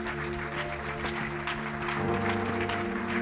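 A church congregation applauds its choir, a steady dense clapping that fills the whole moment at moderate loudness with faint tones underneath.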